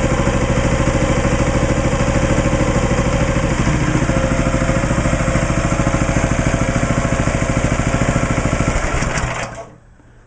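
A Harbor Freight 6.5 HP small engine on an MTD wood splitter idles with a steady, loud, even putter, then cuts out and winds down near the end.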